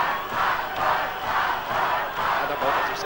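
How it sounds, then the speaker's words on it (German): A wrestling crowd at a 1992 CWA event in Hannover chants a name in rhythmic repeated pulses, roughly one every half second, loud and massed with general arena noise behind. "Rambo, Rambo, Rambo ruft das Publikum hier"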